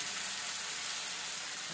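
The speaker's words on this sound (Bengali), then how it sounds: "এখানে আমি টমেটোটা দিয়ে দিলাম আর কাঁচা লঙ্কাটাও দিয়ে দিলাম, তো ভালো করে এখন ফ্রাই করে দেবো।" Tomato and green chili frying with onion and garlic in a pan, a steady, even hiss of sizzling oil held at moderate level throughout with no talking.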